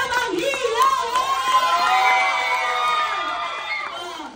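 Loud cheering and shrieking from children and adults at a Jollibee-themed seventh birthday party, a dense crowd roar with high whoops and voices that swells and holds before fading.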